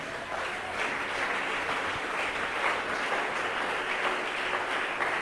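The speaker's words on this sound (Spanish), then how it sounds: "Denle un aplauso al Señor." Church congregation applauding, a steady dense clapping at moderate distance that carries on evenly throughout.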